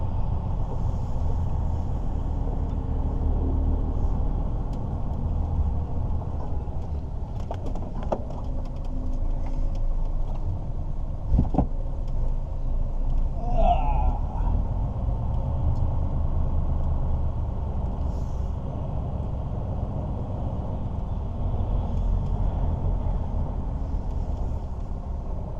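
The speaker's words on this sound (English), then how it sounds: "One bus." A bus passing on a road with a sharp hiss of air brakes partway through, set against steady low traffic and engine rumble, moderately loud and with no talking.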